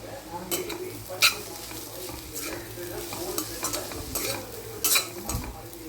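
Beetroot poriyal with coconut is stirred and fried in a pan, with a spoon scraping and clinking in repeated strokes over a soft, continuous sizzle, close and moderately loud.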